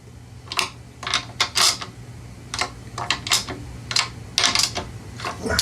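Quarter-inch drive ratchet tightening a bolt during assembly of a Subaru pressure washer engine, giving sharp, irregular metallic clicks in short bursts close by over a faint low hum.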